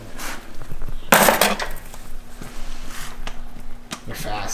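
Wrenches and an impact socket clink and clatter during a Cummins diesel engine teardown on a first-gen truck, with sharp close metallic hits and a steady hum underneath, while people talk over it.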